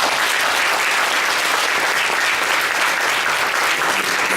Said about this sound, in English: can you give us a hand clap?